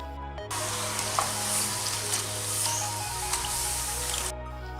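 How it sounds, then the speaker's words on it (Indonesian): Thin bitter melon chips fry in hot oil while being stirred, making a steady close sizzle with soft scrapes and light bubbling throughout. No one speaks. "goreng sambil terus diaduk-aduk agar tidak lengket satu sama lain"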